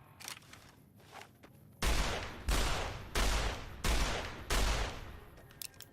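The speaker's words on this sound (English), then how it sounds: "I think we're actually just gonna shoot this one." Five heavy gunshots ring out at a steady pace in Fallout New Vegas, each a loud broadband blast with a short decaying tail. Faint clicks and movement come before them.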